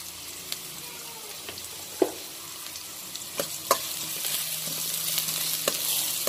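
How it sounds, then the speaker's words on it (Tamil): Chopped onions and salt sizzling in hot oil in a pan with mustard seeds and urad dal, a steady soft frying hiss with a few sharp pops and stirring clicks, close and alone without talk. "நறுக்கின வெங்காயத்தையும் உப்பையும் ஆட் பண்ணிடுவோம்."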